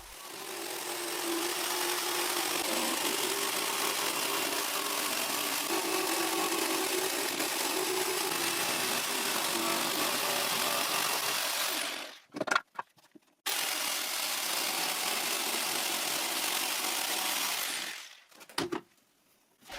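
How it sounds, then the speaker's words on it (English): A jigsaw cuts a half-heart curve into a wooden board, a steady loud motorized buzz running continuously for about twelve seconds, briefly stopping, then resuming before cutting off near the end. "now I have to be patient and as precise as I can to cut the half-heart shape"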